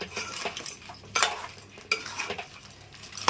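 A spoon scrapes and clinks in a pot as chili powder is stirred into a crab curry, irregular metallic knocks and scraping strokes with a few sharper clanks, close and without talk.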